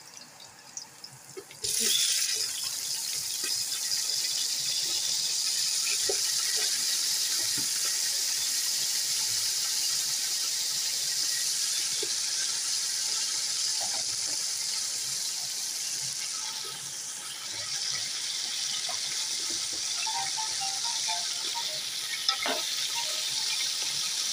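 Chicken meat hits a pan of golden brown onions for pulao and sets off a loud, steady sizzle that holds for the whole stretch, with faint stirring scrapes near the end.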